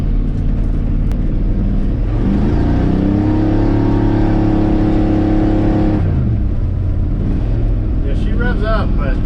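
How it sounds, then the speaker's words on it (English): A 1984 Chevrolet K20 farm truck engine revs up hard and holds high for several seconds, then drops off, with a rough, loud drone throughout and brief faint voices near the end. "Revs up, but I don't think the tires are spinning much faster."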